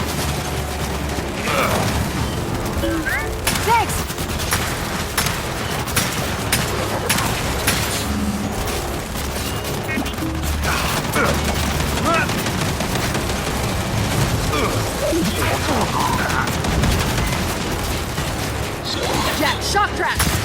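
Turret fire in the Gears 5 video game, loud continuous bursts of automatic gunfire and booming impacts throughout, with voices shouting over the battle.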